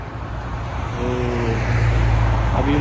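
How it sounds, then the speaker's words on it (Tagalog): Cars pass along a road beside a frozen creek in cold weather, a steady broad roadway rumble that swells louder toward the end, with one engine hum drawing nearer. "Ang daming sasakyan"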